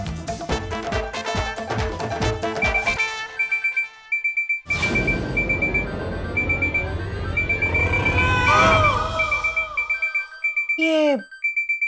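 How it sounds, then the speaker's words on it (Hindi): An alarm clock rings indoors with steady, repeated electronic beeps that carry on in a regular pattern, under voices and other household and background sounds. "अलार्म की आवाज कहां से आ रही है?"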